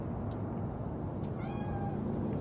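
A cat meowing in Cyberpunk 2077, a single drawn-out, descending meow heard over a loud steady background rumble, with no talk.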